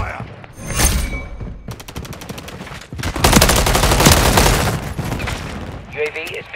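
Gunfire in the Call of Duty video game: loud rapid machine-gun bursts and single shots crackle in quick succession, with heavy thuds and a brief lull between volleys.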